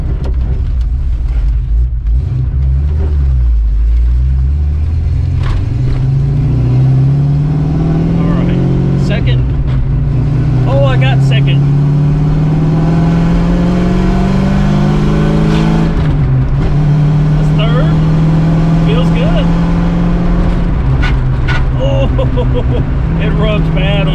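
A Ford Mustang GT with a 5.0 engine and very low suspension accelerates through the gears, its engine note climbing in pitch with each gear and dropping at each shift. The sound is loud and close from inside the car, and someone talks over it.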